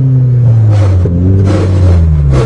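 A Toyota GTS engine revs and drones steadily at close range with a low, sustained tone whose pitch slowly falls, broken by a brief shift or clunk partway through.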